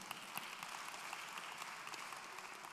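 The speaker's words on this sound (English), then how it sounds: "Clap for yourself now." A church congregation at a Palm Sunday morning service claps for itself, a fairly faint, continuous patter of many hands at a steady level with no speech.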